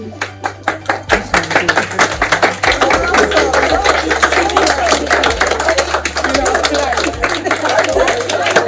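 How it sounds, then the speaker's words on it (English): A school audience applauds year-seven student presenters after a science discovery presentation, with dense, steady clapping filling the whole stretch from the start, a low hum running underneath and some talk mixed into the crowd. "A round of applause for them."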